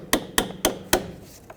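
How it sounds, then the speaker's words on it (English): A small hammer taps four times in steady succession on a stuck stud on the front brake strut of a 2007-2009 Saturn Aura, sharp close metallic knocks followed by a fainter fifth tap. "with a little hammer you'll have to push the stud in a little bit"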